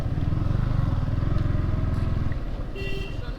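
Motorcycle engines idle close by while the bikes are parked, a steady low rumble that fades after about two seconds, leaving a softer engine hum and a brief high beep near the end.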